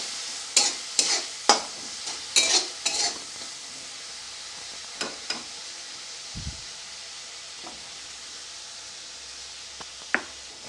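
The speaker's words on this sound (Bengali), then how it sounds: "হাফ চামচ লঙ্কা গুঁড়ো দিয়ে আরও কয়েক সেকেন্ড ভালো করে নাড়িয়ে দেবো।" Onions frying in a pan with turmeric and chili powder stirred in, heard as a quiet sizzle under a series of short scraping stirs in a quick cluster, then a few scattered strokes later on.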